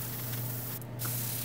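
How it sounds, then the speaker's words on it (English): Medium gray paint hisses from a spray can onto a Millennium Falcon model, a steady close airy spray that holds throughout, with a slight dip partway. "I'm going to spray these areas with"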